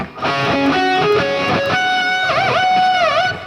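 A distorted electric guitar plays a quick lick leading into the verse, with sliding notes and bent, wavering tones, ending on vibrato-laden sustained notes.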